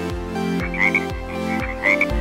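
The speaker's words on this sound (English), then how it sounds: "Flying tree frog." A flying tree frog croaks in a steady series of rhythmic, throaty pulses about twice a second, loud and close, with higher chirping notes layered over the croaks.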